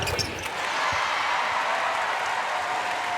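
A sold-out crowd at a women's college basketball game in the Kennel arena applauds and cheers, a broad sustained wash of clapping and roar with a few ball bounces near the start.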